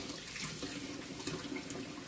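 Steady rushing of hot water pouring from a tap into a sink, continuous and fairly close, with no voices.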